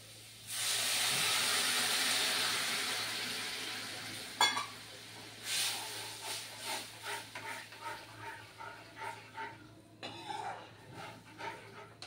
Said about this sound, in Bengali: এই যে বার্লিটা গুলে রেখেছিলাম, এই দেখো বার্লিটা দিয়ে দিচ্ছি।